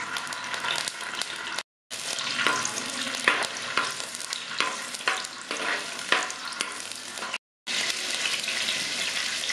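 Whole shallots hit hot oil in a pan for a Kerala-style fish curry, giving a loud, continuous sizzle with crackling bursts and two brief silent breaks.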